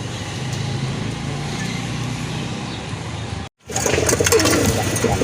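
Pigeons for sale at a market stall, including a female pigeon, coo and flutter amid steady background noise of nearby traffic; the sound cuts out briefly, then returns louder and busier.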